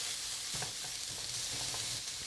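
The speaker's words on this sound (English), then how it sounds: "We'll need to brown the pork a little and release most of the fats." Minced pork browning and frying in a hot pan, with a steady hiss and scattered clicks of stirring, close by.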